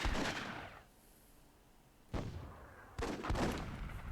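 RPG and grenade fire from the video game Myth II Soulblighter comes as three sharp, distant blasts, each fading into a rumbling tail, with quiet gaps between them.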